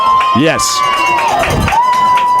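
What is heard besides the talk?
home crowd cheering at high school football game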